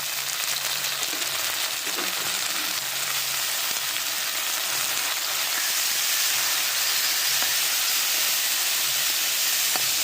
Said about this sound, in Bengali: একটু ভাজা হলে একটু ভাজা ভাজা হয়েছে, চিংড়ি মাছটা দিয়ে দিলাম